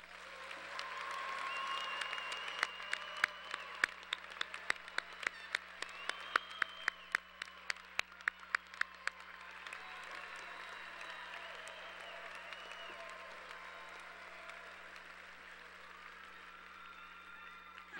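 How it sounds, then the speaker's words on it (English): Crowd applause for graduates at a spring engineering commencement ceremony, with sharp individual claps standing out over a steady roar before the clapping gradually thins and fades into a quiet hall. "Let's give all of our graduates another round of applause."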